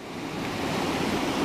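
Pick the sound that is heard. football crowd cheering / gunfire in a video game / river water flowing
river water flowing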